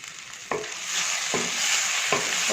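Mutton liver pepper fry sizzles steadily in hot oil as curry leaves go in, with three sharp scraping stirs of a spatula cutting through the continuous close, bright frying hiss.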